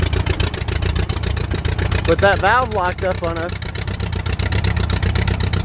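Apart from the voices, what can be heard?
Allis-Chalmers WD tractor engine running in road gear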